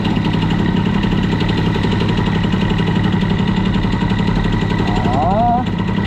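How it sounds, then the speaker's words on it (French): A Fox Origine moped fitted with a Stradivario cylinder and BOOST head warms up on choke, its engine running steadily and loudly close by for the whole stretch, with a brief rising whine near the end. "Et petit chauffage du moteur."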